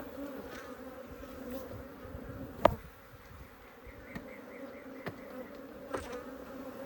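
A close, steady drone of Africanized honey bees buzzing at a hive being rehabilitated, a dense hum with occasional soft clicks and knocks from hive handling, no voices.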